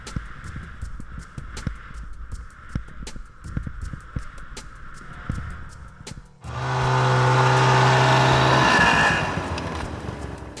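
Snowmobiles ride past with a low throbbing hum, then an engine revs up close and loud for a couple of seconds before the whine fades off.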